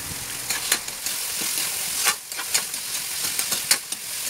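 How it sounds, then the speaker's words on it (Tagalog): Tomato and onion sauté in a pan for ginisang ampalaya, a steady sizzle broken by repeated scraping stirs and clicks of the utensil against the pan, close and clear. "Ginisa natin kamatis at sibuyas."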